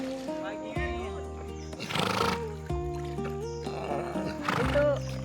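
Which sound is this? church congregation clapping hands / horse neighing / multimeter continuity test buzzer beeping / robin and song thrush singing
horse neighing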